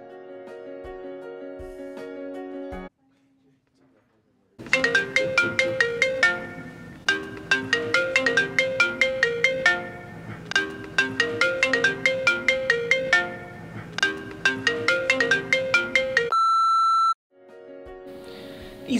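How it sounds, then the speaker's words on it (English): A phone ringtone goes off in a library, a bright electronic melody of rapid repeated notes that plays loud and close in several bursts with short pauses between them, ending on a held tone. "Or has your phone ever gone off in the library?"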